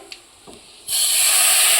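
A sudden loud sizzle of hot oil tempering for dal dhokli bursts in after a few faint clinks and keeps hissing steadily to the end.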